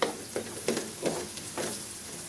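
Chili added to Batangas-style beef kaldereta in a pan sizzles softly while a utensil stirs and scrapes in a few separate strokes, close and fairly quiet with no talking.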